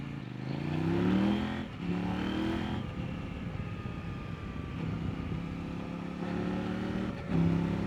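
A 2025 Kove 800X Rally adventure motorcycle with its standard EU5-approved exhaust revs and drones steadily at moderate distance, rising in pitch a few times with throaty exhaust rumble throughout.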